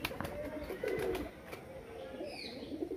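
Pigeons coo softly at a temple compound, with several low throaty calls overlapping amid faint ambient chatter and a few distant chirps.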